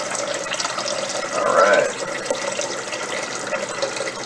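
Tap water runs steadily into a pot being filled for pasta in a home kitchen, a continuous splashing hiss that swells briefly midway as a person speaks a few words.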